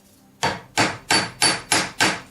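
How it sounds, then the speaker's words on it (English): A hammer strikes a metal ring on a mandrel while thickening it, six sharp evenly paced blows ringing loudly and close, each decaying quickly, with no talking. "Make sure to tap it both sides and then hammer it back to the same thickness,"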